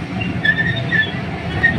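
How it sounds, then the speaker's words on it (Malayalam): A small ride-on train at Vismaya Water Theme Park in Kannur rolls along with a steady low rumble, faint clatter and repeated thin metallic wheel squeals, heard close with no talking. "അപ്പോൾ നമ്മുടെ ട്രെയിൻ സ്റ്റാർട്ടായി"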